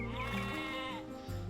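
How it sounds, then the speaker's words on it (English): A single sheep bleats in Age of Empires II, a close, loud wavering call followed by a second shorter bleat. "We're just looking for the last 1 sheep"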